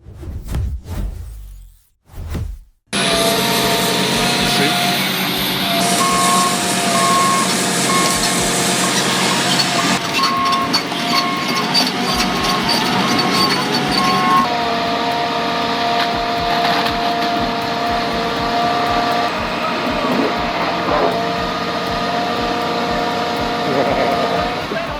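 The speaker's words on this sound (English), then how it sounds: "Crushing old cars is not just entertainment." A high-speed industrial crusher flattening an old 1992 Corolla and other scrap cars for recycling, with loud continuous grinding, crunching metal and machine roar that starts abruptly after a brief quiet opening, plus a repeating beep partway through.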